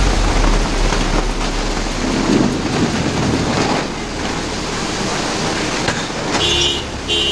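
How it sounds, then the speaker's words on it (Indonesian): Heavy hail and driving wind lash a street in Bandung, producing a dense, steady roar of pelting ice and rushing air that stays loud and continuous throughout, with a faint passing rumble near the end. "Bandung dihantam hujan es dan angin kencang."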